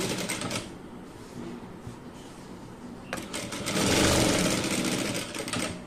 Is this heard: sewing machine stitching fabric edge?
yes